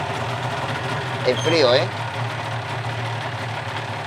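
A Yamaha RD500 motorcycle engine, running without its tank or air filter, idles at low revs in a steady, close, even drone. Someone speaks briefly over it.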